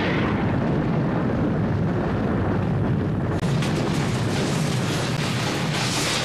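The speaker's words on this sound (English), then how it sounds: "night, explosions rock the factories and rail lines" Continuous heavy rumbling roar of explosions at factories and rail lines at night, with sustained low booms and crackling bursts, loud and unbroken throughout, with no voices.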